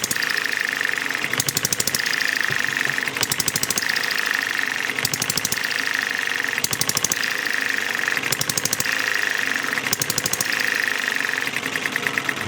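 A small hobby motor engine on its first run, fitted with a governor and a straight exhaust tube, chugs steadily and loudly with a fast knocking beat that swells and eases in regular cycles every second or so.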